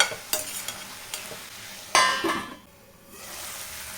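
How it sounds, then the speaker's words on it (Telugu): A spoon stirs gongura mutton curry in a pot, scraping and clinking against the metal amid a soft sizzle, with a few sharp knocks and then quieter simmering. "మధ్య మధ్యలో కలుపుకుంటూ ఉడికిచ్చేసుకుంటే సరిపోతుంది"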